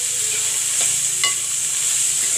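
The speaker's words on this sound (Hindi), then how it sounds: "इसको ऐसे अच्छे से फ्राई कर लेंगे।" Dried Bombay duck fish fries in hot oil in a pan, a loud, continuous sizzle with a few scraping stirs of a spoon mixed in, close and steady throughout.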